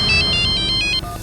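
An electronic phone ringtone trills in short repeated bursts, loud and close, then cuts off abruptly.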